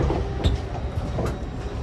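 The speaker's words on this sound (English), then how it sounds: "Now, time for a tour aboard this Class 800 LNER Azuma train." Steady rumble and rattle inside a Class 800 LNER Azuma train carriage while moving, with soft clicks and a continuous low running drone throughout.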